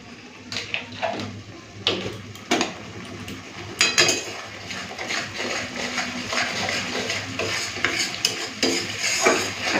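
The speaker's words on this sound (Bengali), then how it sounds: "চলুন একটুখানি সময় দিয়ে মশলাটা কষে নিই" A ground spice paste with salt is sautéed in a pan for potato curry. A low sizzle runs under repeated scraping and clattering of a spoon against the pan, with uneven, close-up knocks.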